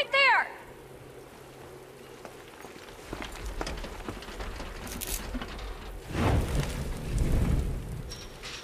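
Rain falls in the video game Resident Evil 2 Remake as a steady wash of patter. Game effects and swells of low rumble sit over it, with voices at times.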